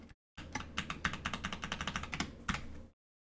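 Rapid keystrokes on a computer keyboard while a root password is entered on a Linux server setup, a steady run of close, crisp clicks lasting about two and a half seconds, with no talking.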